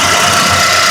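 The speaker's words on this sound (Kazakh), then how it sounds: "Мотору шыбырап, жеңил машина экенде эле чыгат." A Volvo 140 car with a German-made engine runs in a steady, close, even hum, with a light rattling texture over a brief stretch.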